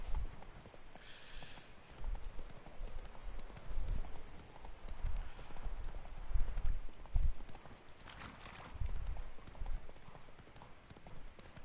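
Horse galloping in The Witcher video game, a steady run of rhythmic hoof clip-clops that rise and fall in loudness over a low rumble, with a brief faint whinny early on.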